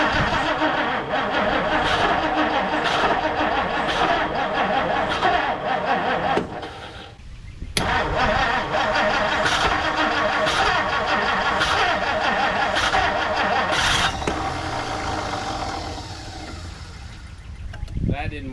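A 1959 Plymouth Savoy engine fitted with a new cheap aftermarket carburetor cranks and labors repeatedly, with steady mechanical churning over about eighteen seconds, a brief dip and restart midway, and a fade toward the end.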